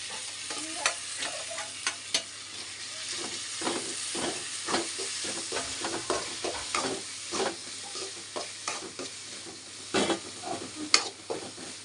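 About ten garlic cloves frying and being stirred in a hot pan for egg kuzhambu, a steady sizzle broken by frequent scraping stirs, close and alone with no talk.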